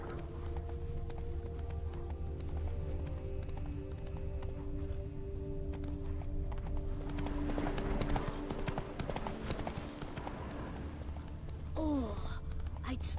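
A horse in The Witcher 3 trots with steady rhythmic clip-clop hoofbeats across the whole stretch over low game ambience and snorting breaths, moderately close.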